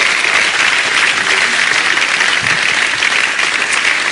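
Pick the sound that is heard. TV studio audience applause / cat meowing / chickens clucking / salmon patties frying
TV studio audience applause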